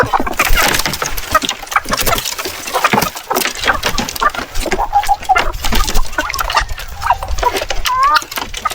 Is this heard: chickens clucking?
yes